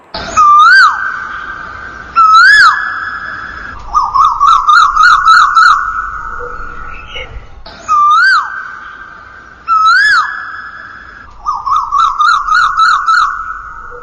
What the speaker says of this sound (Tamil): ஏசியன் கோயல்,